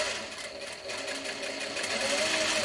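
An industrial Juki sewing machine runs continuously while quilting with scraps, a loud, steady mechanical buzz that rises slightly in pace toward the end.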